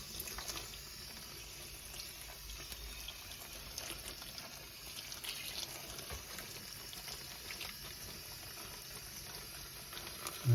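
Steady running water splashes and patters as pine mushrooms are rinsed under it to remove mud and pine needles, with no talking.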